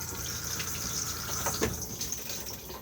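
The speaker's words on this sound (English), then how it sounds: "push to flush" Water rushing steadily through the flush of a cassette toilet inside a Rollerteam Auto-Roller 707 motorhome, a continuous close hiss with no talk.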